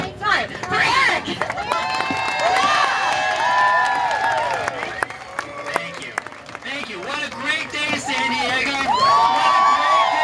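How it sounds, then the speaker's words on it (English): Crowd at a gathering on the day of the Prop 8 and DOMA rulings, June 26, 2013, cheering and clapping loudly throughout, with whoops and shouts mixed into a dense, sustained roar. "can we get a strong round of applause for for Eric"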